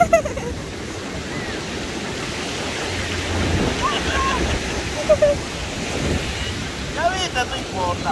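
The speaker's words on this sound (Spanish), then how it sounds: "Me quería llevar el mar, Tuli." Ocean surf washing onto a shore, a steady broadband roar with swelling surges and gusty wind buffeting the microphone throughout, with no talk over it.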